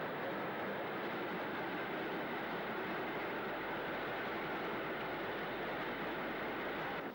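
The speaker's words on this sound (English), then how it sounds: "A Black 5 heads a passenger train north past Bersham Colliery" A Black 5 steam locomotive hauls a passenger train north past Bersham Colliery in North Wales, heard as a steady, distant broadband rumble and hiss that holds evenly throughout, faint and unbroken, with no clear beats or whistles.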